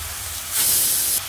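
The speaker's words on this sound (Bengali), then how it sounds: "আমি সবগুলো এখন ভালোভাবে কষে নিব।" Turmeric, chili powder and salt fry in a hot pan for potato, pointed gourd and fish curry, giving a steady hiss that swells louder midway and then drops back.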